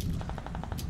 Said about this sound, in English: Shooting in the distance.